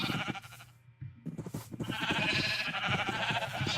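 Sheep in a Minecraft Galacticraft modpack bleat repeatedly in a game setting, their cries fairly loud and layered over steady background game music and ambience.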